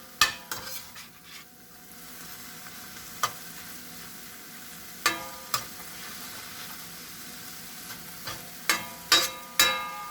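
Mushrooms cook in a pan with beef and green beans, a soft sizzle under a series of sharp metallic clinks and taps from a utensil against the pan, irregular and close.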